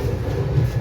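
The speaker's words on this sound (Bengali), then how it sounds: "ট্রেন আমাদের ঢুকছে 2:43 নাগাদ উড়িষ্যা রাজ্যে কটক" The Garib Rath Express train rolls into Cuttack Junction with a loud, steady low rumble of wagons on the rails, close by and with no talk.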